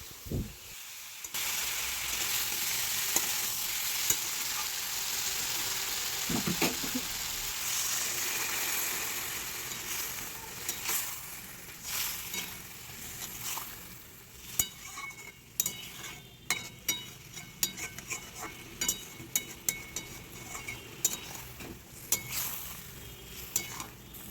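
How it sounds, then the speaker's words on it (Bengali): A potato and pointed gourd curry with chhana is stirred in a hot pan: a long, steady sizzle and hiss, later broken by sharp, irregular clicks and scrapes of the spatula against the pan. "আবারও ভালো করে নেড়ে চেড়ে নেওয়া হবে"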